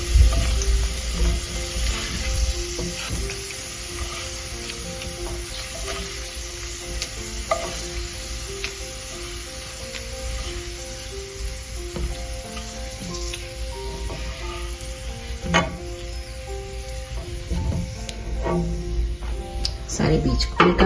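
Food frying in ghee in a pan while cooking Mianwali dal, a steady close sizzle running throughout with occasional stirring clicks and faint background talk.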